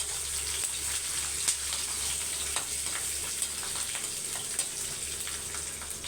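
Garlic sautéing in hot oil in a pan, a steady close sizzle with occasional stirring scrapes, no talking.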